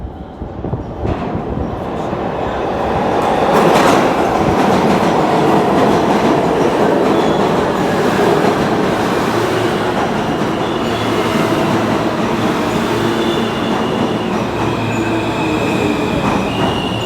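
E, M and 6 subway trains, R160 Siemens cars, at Lexington Avenue 53rd Street station: a loud, sustained roar of a train moving through the underground platform, with clattering wheels and high metallic squeals over the whole stretch.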